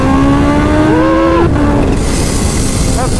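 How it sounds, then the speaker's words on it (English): A Kawasaki Ninja H2 motorcycle engine responds to small throttle inputs, its loud close tone rising and falling in pitch before settling back to a lower idle. "See how it pushes on when you give it the tiniest amount of throttle."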